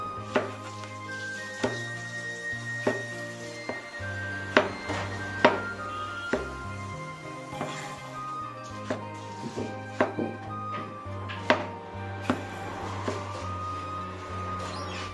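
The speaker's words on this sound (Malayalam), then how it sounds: "അത് കഴിഞ്ഞിട്ട് നമുക്ക് ചെറിയ പീസുകളായിട്ട് മുറിച്ചെടുക്കാം." Lemons being cut into small pieces for pickle on a board: steady, distinct knife taps in an irregular rhythm, close and fairly quiet, with a faint background tone.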